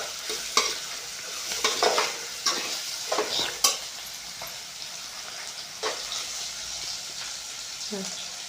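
Masala being stirred and fried in a pan with tomato for vegetable biryani, giving a loud close sizzle with irregular scraping and clattering spoon strokes that fade toward a softer hiss near the end.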